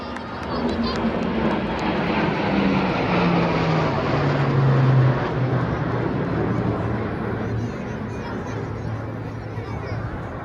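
Sukhoi fighter jets of the 31 Squadron fly over in formation at the 2025 Republic Day parade, a loud, sustained jet roar whose pitch slides steadily downward as the formation passes overhead.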